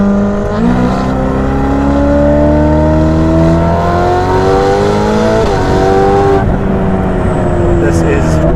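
A Ferrari F8 Tributo tuned to 818 hp, fitted with a catless Novitec exhaust, revs hard through rising gear pulls, loud and close, with a brief shift dip before climbing again; rain and a talking voice sit underneath.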